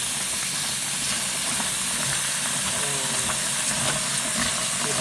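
Running water rinses a batch of soaked wild bird seed with floating sunflower seeds, a steady broad hissing wash that stays close and even throughout, with no pauses.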